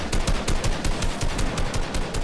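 Rapid automatic gunfire from a boss in the video game Fortnite, a steady burst of close, loud shots in quick rhythm with no talking over it.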